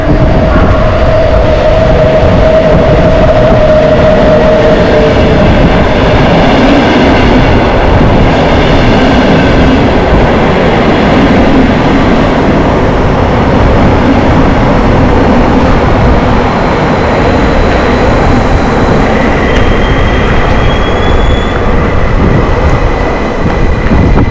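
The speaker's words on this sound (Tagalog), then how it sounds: "Ano siya, lumang klaseng train." Old-style Z-Train passenger train riding in Finland, heard from inside: a loud, continuous rumble and rattle of wheels on track with a faint whine, steady throughout without talking.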